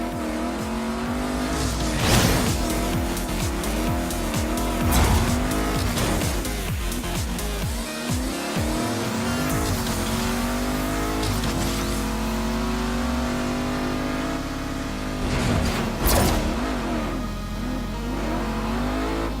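Race car engines revving and accelerating in the video game Agents of Mayhem, with repeated loud gear-change swells, sharp tire squeals and cars passing close, continuous throughout.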